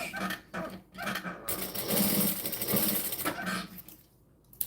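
A home sewing machine runs a top stitch in one continuous whirring burst, close and fairly loud, starting and stopping with a few mechanical clicks and no talking.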